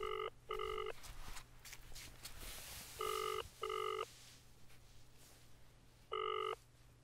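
A telephone rings in repeated double bursts, three rings spaced across the scene in a Nepali drama, clear electronic tones over a quiet room hum with no talk.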